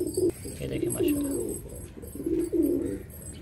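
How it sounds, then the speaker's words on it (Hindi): Brown Shirazi pigeons coo in low, throaty rolling bursts, close by and moderately loud, with several repeated calls spread across the moment. "ये देखें ये दोस्तों हमारा ब्राउन जो है शिराजी कबूतर, कितना मस्ती कर रहा है माशाल्लाह।"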